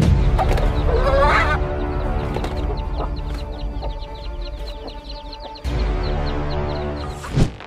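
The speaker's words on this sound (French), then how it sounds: "Cette poule défend ses poussins contre un oiseau de proie" A hen defending her chicks from a bird of prey clucks and squawks in agitation, close by, with a brief sharp cry near the end.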